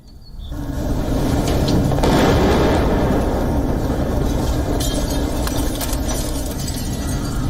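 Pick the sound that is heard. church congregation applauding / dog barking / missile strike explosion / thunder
missile strike explosion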